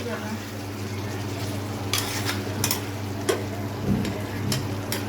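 Duck meat curry seasoned with garam masala is stirred in a pan, giving a few distinct scraping sweeps over a steady low simmering hum, close and moderately loud.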